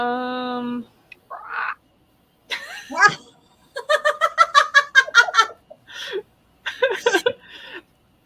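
Several people imitate frog croaks with their mouths during a tabletop Dungeons & Dragons session, a burst of rapid, rhythmic croaking and warbling sounds mixed with giggles and gasps, loud and close.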